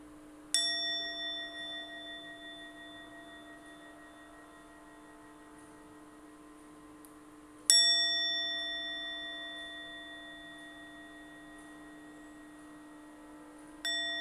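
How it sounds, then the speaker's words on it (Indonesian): A mindfulness bell in a Buddhist religion lesson is struck three times, about seven seconds apart, each clear metallic ring decaying slowly into near silence. "Marilah kita sejenak hening memperhatikan suara bel kesadaran berikut."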